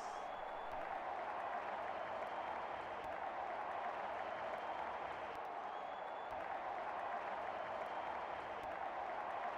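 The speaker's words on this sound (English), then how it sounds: "Crowd going mad here." A crowd roars without a break after a six in the cricket video game Real Cricket 20, a dense wash of cheering and applause that holds at an even level throughout.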